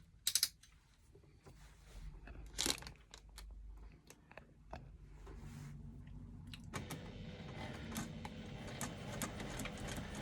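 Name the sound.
sewing machine stitching fabric with Teflon foot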